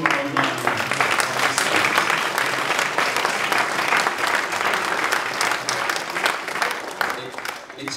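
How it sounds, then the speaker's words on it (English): A crowd applauds steadily for several seconds at an international seminar, dense clapping holding at an even level before tapering slightly at the end. "a big round of applause for all of our online"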